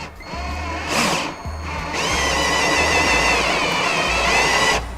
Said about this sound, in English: Going to take our step bit, and we're going to go to our 1/2 inch mark.